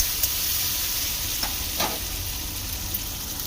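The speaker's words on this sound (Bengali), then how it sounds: "আলুটা ভালো করে তেলে ভেজে নিতে হবে।" Potatoes frying in oil give off a steady, even hiss of sizzling, with a few faint clicks and pops scattered through it, heard close and alone.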